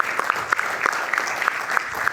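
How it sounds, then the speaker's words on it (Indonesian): A television studio audience claps for an arriving guest on a football talk show, a steady burst of applause with sharp individual claps standing out across the full length and no voices over it. "kita berikan tepuk tangan"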